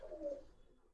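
One short, soft coo from a silver-tailed Giribaz pigeon, close but faint, alone without talk.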